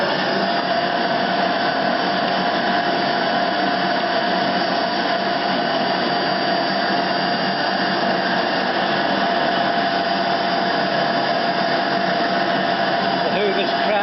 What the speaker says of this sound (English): Get the hoover.